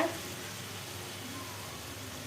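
Cumin seeds sizzling in hot oil in a pan while cooking a fish and potato curry, a steady hissing crackle that runs evenly throughout without voices.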